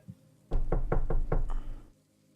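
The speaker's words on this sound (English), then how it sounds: "Patan is gonna knock on Yizit's door." A run of six firm knocks on a room door at an even, quick rhythm, close and fairly loud, then quiet.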